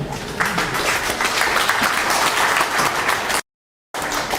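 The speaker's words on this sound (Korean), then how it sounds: "박수로 맞이해 주십시오." A crowd at a memorial society seminar claps steadily in a dense, loud wash of applause that stops abruptly, leaving a moment of silence before clapping resumes.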